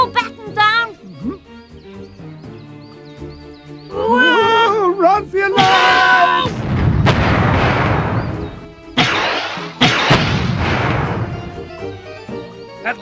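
Cartoon bombs, really pebbles dropped by a flight of bumblebees, burst in two big crashing explosions over music and animated voices, the second blast arriving a few seconds after the first.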